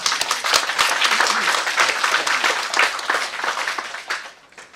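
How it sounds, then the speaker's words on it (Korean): An audience applauds a lecture on Korean script at a Confucian education institute, dense steady clapping from a roomful of listeners filling the room for several seconds before tapering off. "이때쯤 되면 박수 한번 받죠."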